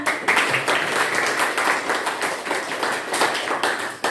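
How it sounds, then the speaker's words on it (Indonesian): A classroom group claps together after a lesson, a brisk, fairly close patter of hand claps that keeps a steady level throughout. "Tepuk tangan untuk kita semua."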